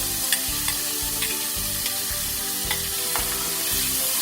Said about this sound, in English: Now add the paste. Guys, the oil is hot. It might flutter on you.